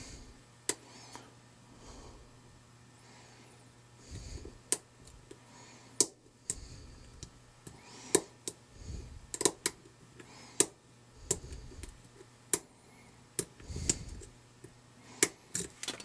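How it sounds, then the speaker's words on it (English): A steel lock pick clicks against the warding inside a Yale challenge lock with steel pins, producing faint, irregular ticks and sharper clicks spaced a second or so apart over soft breathing-like background noise. "That clicking you hear is me writing off the warding."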